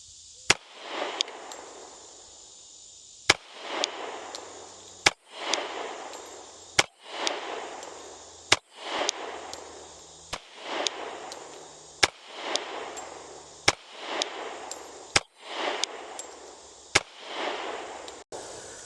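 Glock 30 MOS pistol firing .45 Super at 12 yards on an outdoor range, about a dozen loud, sharp shots spaced evenly over eighteen seconds, each followed by a long rolling echo.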